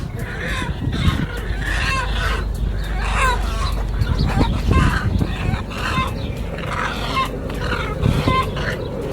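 A dense chorus of clucking chickens fills a poultry farm in Oman, steady and close throughout, with overlapping calls and a few louder squawks.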